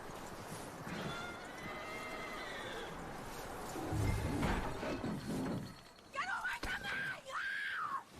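A horse in the Western open-world game Red Dead Redemption 2 gives a rising whinny near the end, preceded by rumbling hoof noise and a gust of sound over a steady ambient bed, with no talk.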